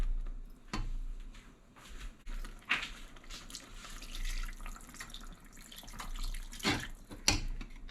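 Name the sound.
pouring a cup of water into a pot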